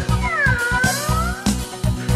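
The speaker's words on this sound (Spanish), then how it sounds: "Aquí está el gato" Sung cat meows in a children's animal-choir song, a long wavering meow carried over steady rhythmic music, loud and close.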